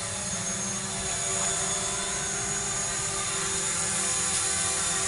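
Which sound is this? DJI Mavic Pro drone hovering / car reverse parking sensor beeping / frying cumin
DJI Mavic Pro drone hovering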